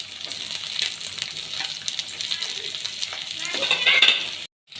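Capsicum frying in a pan for Gobi Manchurian, a steady close sizzle with stirring and light utensil scrapes throughout, swelling louder near the end before a sudden cut; no one speaks.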